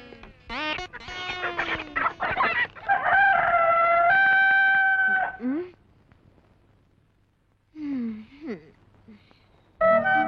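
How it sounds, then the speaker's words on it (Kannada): A rooster crows several times in a rural setting at dawn, loud and close, with long drawn-out calls and pauses between them. "ಕೋಳಿ ಗರ್ಜಿಸ್ತಾ ಇದೆ"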